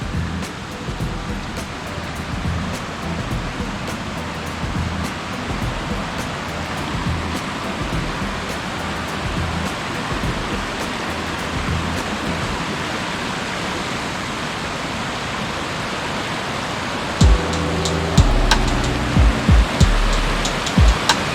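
Lesmurdie Falls roars in a steady, dense rush of water close by, continuous and loud, with a few brief knocks near the end.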